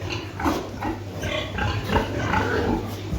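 Pigs grunt and snuffle nearby, a busy mix of low snorts over a steady background hum.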